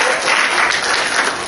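A congregation at an evening church service claps loudly for visitors, a dense, continuous burst of applause from a sizable crowd filling the room without interruption.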